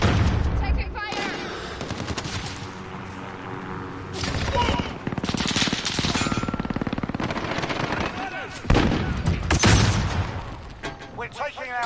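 Gunfire from the video game Call of Duty Modern Warfare, bursts of shots and booms throughout a busy match, loud and continuous, with voiced game announcements over the top.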